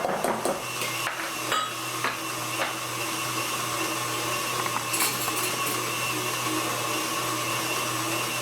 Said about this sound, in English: we're just going to blend this together